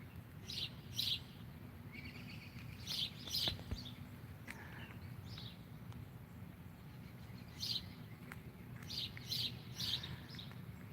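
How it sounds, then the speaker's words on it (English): Birds chirp in repeated bursts outdoors, their calls fairly clear over a steady low rumble of background noise. "Wow, the birds are all of a sudden going crazy now right here."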